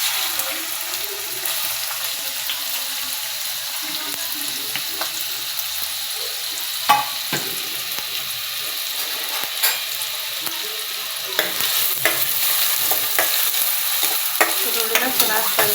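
Finely chopped onion and long-cut green chillies fry in hot oil as a tempering for gobi manchurian, with a steady sizzle and occasional stirring clinks and scrapes running throughout, loud and close.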